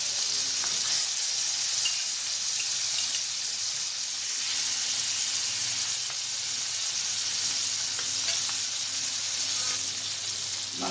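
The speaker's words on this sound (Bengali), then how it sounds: "মাছগুলো একটু ভেজে নেব, হালকা ভেজে নেব।" Hilsa fish pieces fry lightly in hot oil, giving a steady, even sizzle and hiss that runs unbroken throughout, close and fairly loud, with a few faint clicks and no voices.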